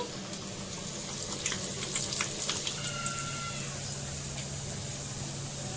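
Sweet corn vada frying in oil over medium heat, a steady close sizzle with soft bubbling and occasional light stirring clicks, with no talk.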